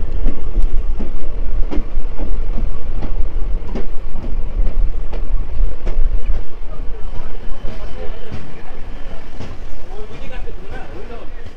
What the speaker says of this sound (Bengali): 3 নম্বর প্ল্যাটফর্মে এসে ট্রেনটি দাঁড়ালো